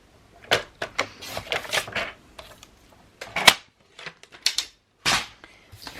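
Paper being cut for a quick craft album, a run of short, crisp snips and slicing strokes in irregular bursts, close and fairly loud, with brief pauses between cuts and no talking.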